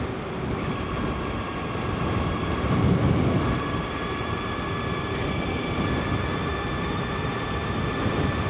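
A 72 volt electric bike pulls away under throttle, its motor giving a steady tonal whine over a dense rush of wind and road noise. The sound stays loud and continuous with a slight swell midway.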